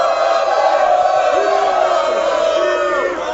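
A studio audience at a sports talk show cheers and hollers for the Broncos or Seahawks, a steady, loud crowd roar with whoops rising over it throughout.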